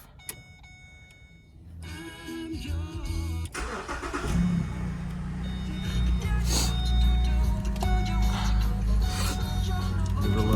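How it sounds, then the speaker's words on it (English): A Pontiac G8 engine cranks and catches, then settles into a loud, steady idle that rumbles on for several seconds after some faint scraping and clicks beforehand. "we gonna start the car"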